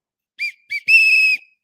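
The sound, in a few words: coach's whistle blown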